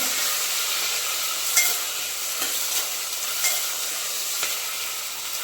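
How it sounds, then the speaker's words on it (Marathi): Onion and cashews frying in oil in a pan for matar paneer pulao, an even hissing sizzle with a few faint spoon clicks, close and continuous without speech. "कांदा घालून घ्यायचं आणि काजू मी फ्राय करून घ्यायचे"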